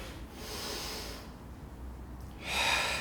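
Soft, close breaths with snort-like exhales come in a few slow cycles during a Pilates workout at a campus skatepark, quiet and without talk.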